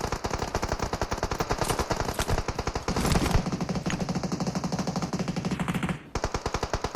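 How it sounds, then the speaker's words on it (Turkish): Rapid automatic gunfire from several players in a PUBG Mobile match, loud, dense bursts of shots continuing almost without pause, with a brief gap near the end before firing resumes. "4 kişi sıkıyor vuramıyorlar da şaka gibiler ya gerçekten"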